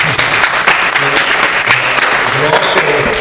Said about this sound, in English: You can clap for teachers.